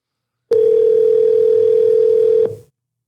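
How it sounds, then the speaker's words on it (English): A steady telephone dial tone sounds loud and alone for about two seconds while a call is being placed, then cuts off abruptly. "Let's see if we can get Aaron on the phone"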